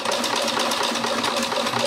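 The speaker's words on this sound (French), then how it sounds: "je fais un petit point avant-arrière et je couds sur toute la longueur." A sewing machine running a back-and-forth stitch along the length of the fabric, a steady fast mechanical whir and patter, close and continuous with no talk.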